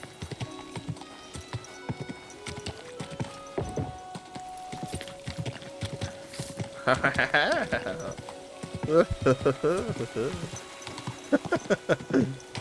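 Horse hooves clip-clopping in a video game, a rhythmic series of hollow knocks at walking pace with a brief whinny midway, while someone talks over much of it and music plays beneath.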